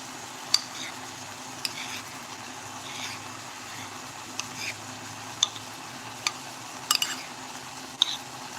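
Ramen noodles stirred into a pork mixture in a pan, with soft scraping and faint sizzle under scattered sharp clinks of a utensil against the pan.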